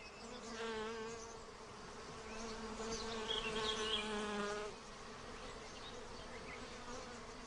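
Honeybees buzzing in flight, a close, steady droning hum with wavering pitch that rises in intensity midway and then settles to a softer buzz.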